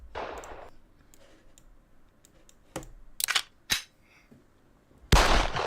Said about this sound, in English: Let me hit the gunshot for you girls.